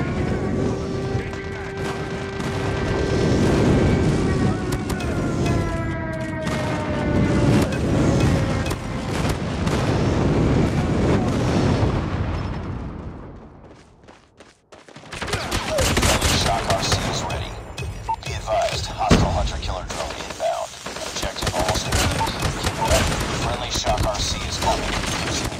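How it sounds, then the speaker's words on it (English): Gunfire and explosions from a friendly airstrike in a first-person shooter, loud rumbling blasts and rapid shots filling the first half, a brief lull, then a dense burst of crackling fire and impacts. "Friendly airstrike incoming."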